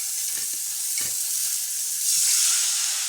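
Water poured into a hot pan of mango for a tok dish, an even sizzling hiss with a couple of faint knocks, then a louder surge of steamy hiss as the water hits.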